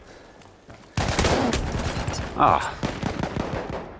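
Automatic gunfire in the video game Battlefield 6 erupts after a quiet start, a dense fusillade of rapid shots that continues to the end, with a player's short exclamation mixed in.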